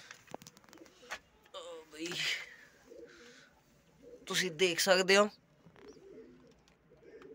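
Pigeons coo inside a pigeon coop in soft, throaty bursts, one clear run near the middle, while someone talks in between.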